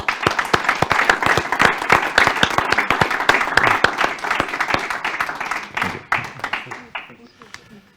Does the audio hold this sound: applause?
yes